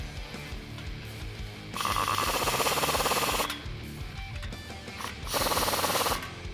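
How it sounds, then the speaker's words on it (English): Ratchet wrench with a 15mm socket tightening an exhaust clamp on a Tacoma MBRP single side-exit exhaust install, heard as two bursts of rapid, close metallic clicking separated by a short pause. "we're gonna tighten this clamp with a 15mm socket"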